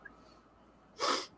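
A single short, sharp sneeze bursts out in a quiet room after a moment of near silence.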